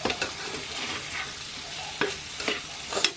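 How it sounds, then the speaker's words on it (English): Chicken biryani mixture is stirred in a pot, with several distinct scraping and clattering strokes over a faint background sizzle. "Right, get it all mixed in really well. Get a good stir."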